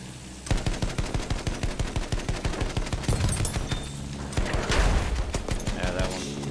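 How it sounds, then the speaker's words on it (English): Rapid bursts of automatic gunfire rattle continuously in Battlefield 1, loud and rhythmic, with heavier overlapping shots in the second half of the fight. "There's also a lot of people shooting us there now."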